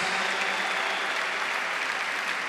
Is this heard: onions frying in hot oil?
no